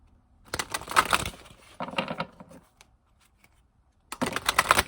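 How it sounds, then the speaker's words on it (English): Oracle cards are shuffled by hand in quick papery bursts: a riffling flurry, a shorter second run, a quiet pause, then another burst of crisp card flicks close to the microphone. "I stopped shuffling because my intuition told me to"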